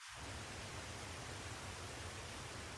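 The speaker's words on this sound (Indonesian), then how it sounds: "Ini adalah suara air terjun." A waterfall's steady, unbroken rushing roar is played back at low volume, a constant wash of falling water with no pauses.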